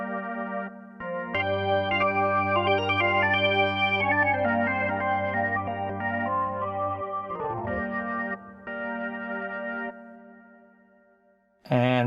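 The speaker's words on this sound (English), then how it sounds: "organ sample, and so I added reverb to it, and that sounds like this." A Hammond B3 organ sample plays sustained chords over a low held bass, bathed in long, dark hall reverb with no early reflections, loud and full, its tail washing out before a short final burst.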